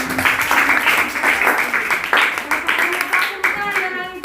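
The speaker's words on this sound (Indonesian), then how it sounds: "Ya, tepuk tangan." A classroom group claps together in a lively burst of hands, the claps coming in quick uneven waves with a voice briefly rising over them near the end.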